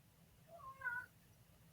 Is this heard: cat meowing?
yes